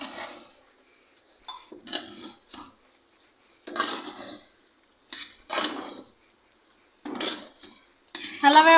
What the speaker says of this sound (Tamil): இப்போ சாப்பாடை நல்லா மிக்ஸ் பண்ணி விட்டுடலாம்.